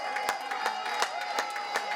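At Baltimore airport, a crowd gives a hero's welcome with continuous cheering and scattered claps, loud and steady, with sharp claps or shouts cutting through at regular moments.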